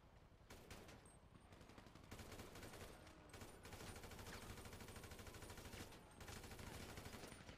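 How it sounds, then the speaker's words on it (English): Police gunfire in the video game GTA V: dense, rapid bursts of shots crackle continuously in a heavy exchange, heard without talk over it. "I'm getting shot by cops."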